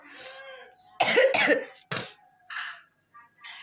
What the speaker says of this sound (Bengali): দেখো ভীষণ কাশি, একবার যদি শুরু হয় আর থামতে চাইছে না।